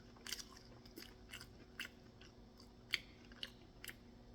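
Crunchy bites and soft chewing on fried crawfish and crab balls, several close, intermittent crunches spaced irregularly over a quiet background, with no talking.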